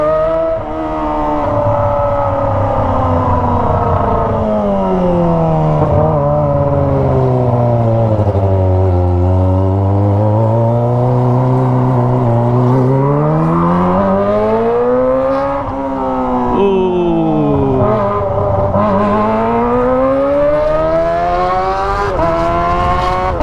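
A loud, throaty Kawasaki ZX25R engine with an aftermarket exhaust drones steadily and close, its pitch swooping up and down repeatedly as it revs and eases off through gear changes.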